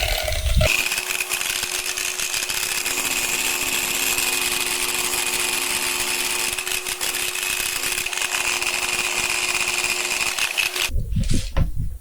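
A power sanding tool with 220-grit stone sandpaper grinds continuously against carved granite, a loud, steady high-pitched whine and rasp lasting about ten seconds before stopping abruptly.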